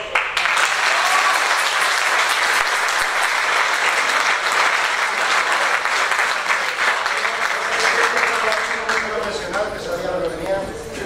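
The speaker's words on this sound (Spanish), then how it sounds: "¡Un fuerte aplauso!" Loud, sustained applause from a large audience at a university tuna anniversary gathering fills the whole stretch, easing slightly toward the end with some voices emerging.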